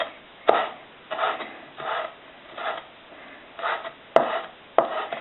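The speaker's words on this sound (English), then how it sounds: "I will slice it into small pieces, very fine, okay? Very fine pieces." Kitchen knife finely slicing fresh garden mint on a cutting board, a steady series of about eight soft, rhythmic chopping strokes, close and clear with no talking.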